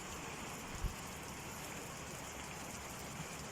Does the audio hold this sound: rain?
yes